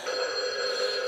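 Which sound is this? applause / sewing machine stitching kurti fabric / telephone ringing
telephone ringing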